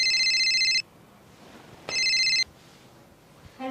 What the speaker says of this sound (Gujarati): ફોન વાગ્યો.